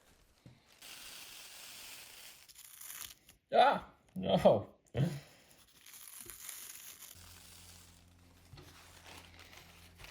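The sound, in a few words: crumpling thin homemade celery paper sheets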